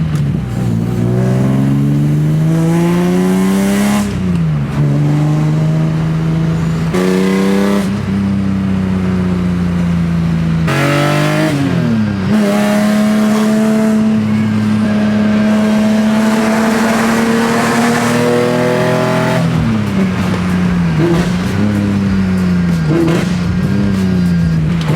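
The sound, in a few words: BMW E30 with S54 engine running, exhaust hitting rear subframe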